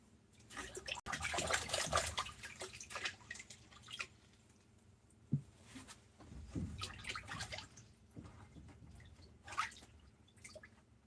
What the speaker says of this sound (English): peel back some of these outer layers of the leeks, and I'll give it a rinse as well.